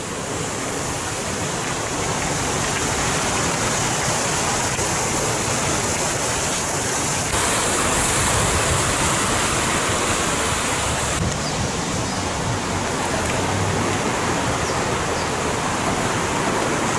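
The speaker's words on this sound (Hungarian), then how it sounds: "bővízű ez a folyócska." A small, full-flowing mountain river at a weir near San Lorenzo di Sebato in the Pustertal valley of the Eastern Alps rushes with a steady, loud, broadband roar that fills the whole stretch, with no voices.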